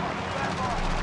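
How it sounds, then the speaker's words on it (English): A helicopter in the Modern Warfare video game gives a loud, continuous rotor roar with a steady throb, heard close for the whole moment. "Oh, I'm in the helicopter."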